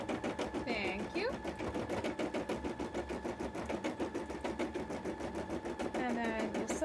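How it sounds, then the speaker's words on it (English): A sewing machine chugs steadily through a cosplay sewing session, its rapid, regular stitching pulse running throughout while a person talks over it. "our machine chugs away"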